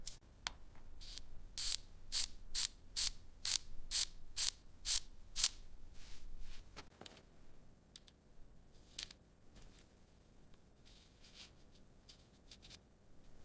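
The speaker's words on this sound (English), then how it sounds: "Now, use the torque wrench to tighten the spec." A torque wrench tightens the main bolts on a 125cc motorcycle engine: a run of about ten sharp, evenly spaced ratcheting clicks, then quieter scattered taps and handling noises, all faint and close.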